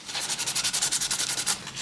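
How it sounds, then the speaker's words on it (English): Fine sandpaper rubs over the cracks of a 3D printed model in quick back-and-forth strokes, about a dozen close, even rasps in a steady rhythm. "go over it again with some fine sandpaper just in the cracks"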